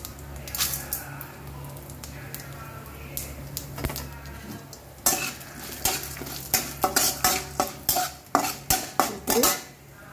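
Mustard seeds, cumin and urad dal tempering in hot oil, a soft sizzle under repeated loud metal spoon clatters and scrapes against the pan, growing into a quick rhythmic series of knocks toward the end.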